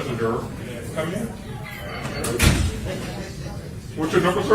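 A door is opened with one sharp knock-like clunk midway, set against a murmur of room noise and faint voices.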